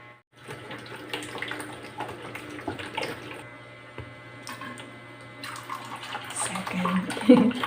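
Tap water running into containers while making a 5-liter batch of homemade dishwashing liquid, a steady pouring rush that continues throughout, with someone talking over it.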